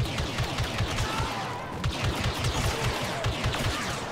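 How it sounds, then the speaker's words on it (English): Blaster fire in Star Wars Battlefront II as a player shoots a droid: rapid repeated energy shots in quick bursts, dense and continuous amid battle noise, with no talking. "I'm shooting a droid"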